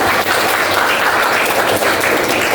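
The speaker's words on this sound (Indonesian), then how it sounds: "Tepuk tangan anak-anak." Children in a classroom clap together, a loud, close and dense burst of many small hands that holds steady throughout with no talk over it.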